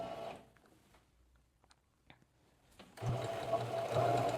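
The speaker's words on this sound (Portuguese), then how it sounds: "vou fazer uma costura de um pezinho de máquina com o retrocesso no início, para não descosturar" Domestic sewing machine stitching a fabric seam after a short backstitch: a quiet pause with small clicks, then a loud, rapid continuous motor whir close by.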